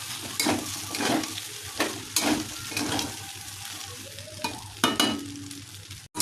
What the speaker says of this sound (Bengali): পাস্তাটা ভাজা ভাজা হয়ে এসছে